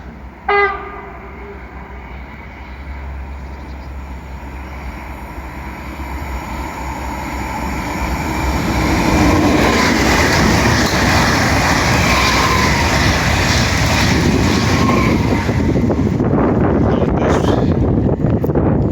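A Pendolino passenger train runs through Warszawa Żerań station without stopping, its horn sounding briefly before a long rushing roar that swells as it nears and stays loud and close, with rolling rumble and clatter.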